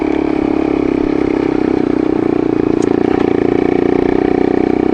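A motorcycle engine climbing small hills at low revs on a rural mountain road, a loud steady rumble close by with a fast even pulse, no talk.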